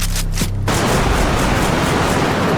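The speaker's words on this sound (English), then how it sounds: "The R12 automatic shotgun." A blast from the R12 automatic shotgun in the shooter game Bodycam, one sharp loud report at the start followed by a dense, sustained roar of noise as the shot echoes out.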